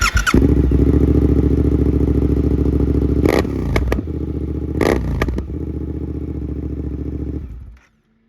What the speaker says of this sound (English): I'll let you guys hear this exhaust real quick, because it sounds beautiful